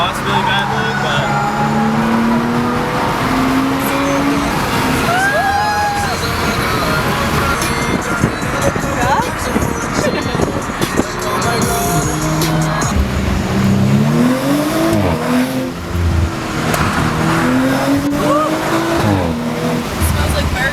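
An Audi RS5 engine revs and accelerates loudly nearby, with crackling exhaust pops, while people talk over the engine noise.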